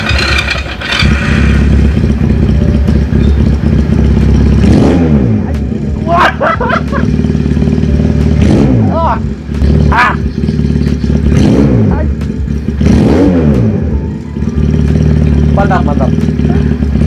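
A Benelli Patagonian Eagle 250 two-cylinder motorcycle idles with a deep, loud, lumpy rumble close by and is revved in several rising and falling bursts, with someone talking over it.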